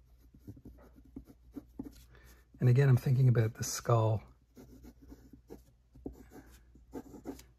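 Pencil sketching on paper, with soft scratchy strokes repeating steadily throughout, close and quiet, while someone talks in the middle.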